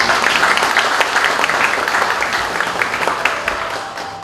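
Loud applause from attendees at a university labor union general meeting and inauguration ceremony, many hands clapping close and dense, slowly tapering off toward the end.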